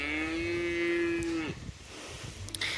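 A cow lets out one long, loud, steady moo close by, followed by quieter farmyard sounds.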